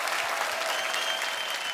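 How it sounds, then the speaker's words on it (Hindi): A comedy-show studio audience breaks into dense, steady applause that fills the whole short moment at an even, moderately loud level. "इन सबके लिए एक बार जोरदार तालियां बजाएं।"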